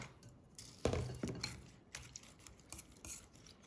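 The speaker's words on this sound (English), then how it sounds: "Add this potato onion in egg mixture and we are going to mix it" Potato and onion being stirred into beaten egg in a bowl for a Spanish omelette, soft wet scraping and clinking of a utensil against the bowl, close but quiet, with a few sharper knocks.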